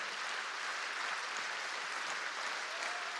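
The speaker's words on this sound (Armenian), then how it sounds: "եկեք բարձր ծափարենք Տիրոջը" A church congregation applauds together in steady, dense clapping that holds at an even level throughout, with no voices rising above it.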